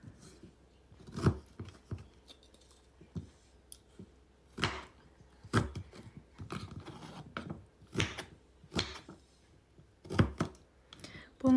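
Quince is cut with a knife for pickle, giving sparse, crisp chopping knocks spaced a second or two apart over a quiet background.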